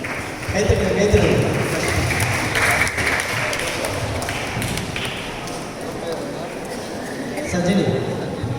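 A crowd at a church feast Mass for Our Lady of Lourdes claps for several seconds, a dense moderately loud patter that swells early and again near the end, with talking mixed in underneath.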